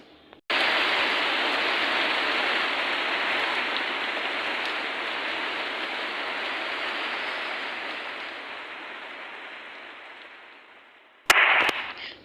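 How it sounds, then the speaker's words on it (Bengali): Steady rain pours down in Dhaka at midday as a dense, even hiss for several seconds, briefly broken by a sharp clatter near the end. "অবশেষে বৃষ্টি পড়ছে এখন দুপুরবেলায়"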